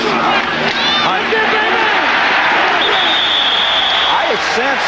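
Huge crowd roaring at a 1984 college football game between Washington and Michigan at Michigan's stadium, a loud, dense, sustained wash of cheering that stays near-constant, with an announcer's voice faintly mixed in.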